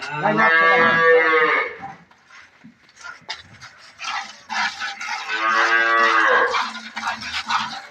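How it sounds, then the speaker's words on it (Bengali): Dairy cows and calves at an agro farm give two long, loud, close moos, with quieter rustling and animal breathing in the pause between them. "এই হচ্ছে তিনটা গরু"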